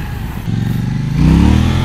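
KTM Duke 790 motorcycle in track mode accelerating hard, the engine note climbing and growing louder into a strong, rising roar in the second half; close, loud and without any talking.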